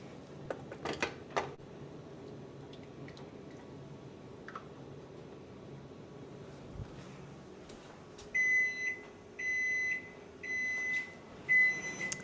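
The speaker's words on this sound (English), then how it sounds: "That's the timer for our dinner." A kitchen timer beeps for dinner in a home kitchen during cherry pie filling canning, giving several short bursts of repeated electronic beeps near the end after quiet clatter.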